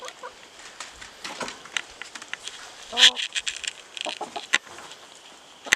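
Chickens and a rooster in a backyard flock at early morning: scattered soft clucks and rustling, with one louder squawk in the middle and more scattered clucking after, fairly quiet overall.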